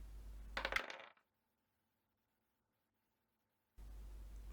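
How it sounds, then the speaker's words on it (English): A die tumbling and clattering across a hard surface in a short burst of sharp rattles, followed by a long stretch of silence before low background noise returns. "let's roll a dice and see what key we're in"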